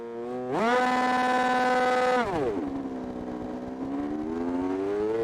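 A motorcycle engine in the TrackDayR racing game revs up sharply on the starting grid, holds a steady high buzzing pitch for about two seconds, then drops and settles into a lower rumbling idle, loud and alone.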